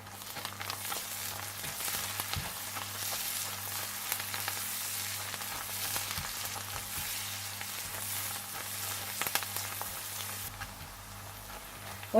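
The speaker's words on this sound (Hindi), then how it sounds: "और हरा धनिया और हल्दी, और इसे भी थोड़ा सा भून लें।" Coriander and turmeric frying in a pan, a steady close crackling sizzle that runs evenly throughout, with a few faint stirring knocks.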